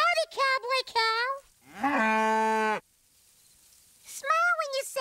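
A cow moos several times in a Wild West cowboy scene from the children's show Elmo's World, the calls loud and close. One long drawn-out moo sits between shorter ones, and a voice imitating or voicing the cow may be part of it.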